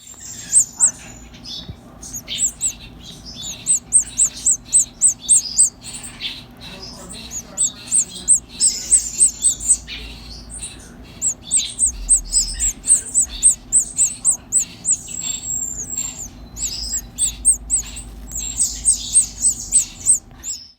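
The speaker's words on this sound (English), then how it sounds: "These are common grackles. They are very noisy birds who make quite the mess while they eat" Baby common grackles squawk while being fed, in rapid, repeated shrill bursts, a noisy chorus of begging calls continuing throughout with a low background hum.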